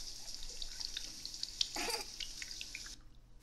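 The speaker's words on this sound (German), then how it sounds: "So, jetzt schnappen wir uns mal hier oben die Dusche." Running shower water in the My Tamagotchi Forever smartphone game, a soft continuous hiss with dripping, swelling briefly in the middle before cutting off near the end.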